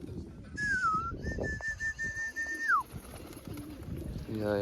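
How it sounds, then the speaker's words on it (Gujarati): Pigeons calling outdoors near a loft, a clear sliding whistle-like call rising and holding steady before dropping, with scattered cooing and flutter over background noise and a man calling to the birds. "એ બધા કબૂતર મસ્તીમાં આવી ગયા ભાઈ"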